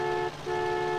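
A car horn on a Barkas van in the multiplayer video game MTA gives a loud, steady synthetic honk held for about a second, briefly dipping partway through before sounding again.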